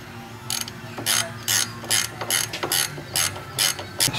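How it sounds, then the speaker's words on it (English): Ratchet wrench tightening a strut bolt on a 2012 Ford Escape, giving about a dozen quick, evenly spaced clicking bursts up close, crisp and loud with no talk. "Use the same 16 millimeter wrench you took it off with to put it back."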